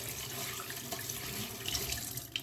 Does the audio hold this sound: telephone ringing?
no